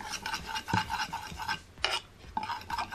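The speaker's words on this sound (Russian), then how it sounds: "Перемешиваем тщательно, чтобы они растворились." A spoon stirs two teaspoons of yeast into honey in a small dish, giving soft scraping and clinking strokes in an uneven rhythm, close and fairly quiet, with no talking.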